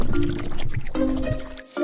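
Cartoon pig siblings splash through puddles outdoors in the wind, with wet slaps and drips in an uneven rhythm against a light tonal background.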